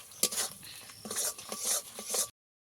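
Tender green coconut flesh is stirred and sautéed in a pan with spices and sour yogurt, producing several close, rhythmic scraping strokes over a light sizzle before the sound stops abruptly.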